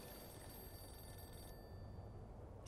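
A telephone rings in a mansion in Mafia 2, a faint steady tone over low room ambience, with the upper ring band cutting off partway through; no one speaks.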